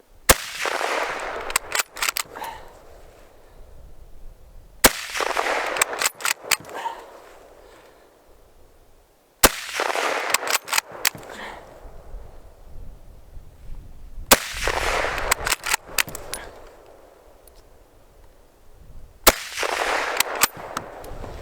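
Mosin Nagant rifle shots crack out one at a time, loud and close, each with a sharp report and a ringing outdoor tail, fired at a steady pace of roughly one every five seconds with bolt-action clatter between.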